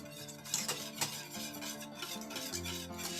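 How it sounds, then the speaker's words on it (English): A whisk works fine semolina into a pot of vegan galaktoboureko custard on the stove, giving quick rhythmic metallic scraping and swishing close up, steady for a few seconds with no speech. "So now we want to whisk it."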